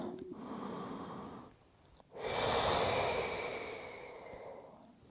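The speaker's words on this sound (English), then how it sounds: "let's take a couple of nice big deep breaths." During a Pilates rest pose, a person breathes deeply up close: a long airy exhale, a short pause, then a fuller, louder inhale and slow release.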